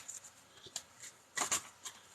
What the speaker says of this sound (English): give it a good shuffle, and then one more